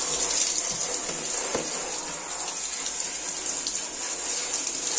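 Tap water running steadily over an air conditioner filter being washed clean of dirt, a continuous bright hiss with small splashes and knocks, close and unbroken.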